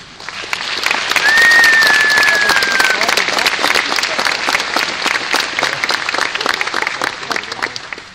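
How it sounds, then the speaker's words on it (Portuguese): A conference keynote audience bursts into sustained, dense clapping that fills the room, steady and loud for several seconds, with a brief vocal whoop near the start. "eu queria pedir para vocês todos uma salva de palmas para vocês"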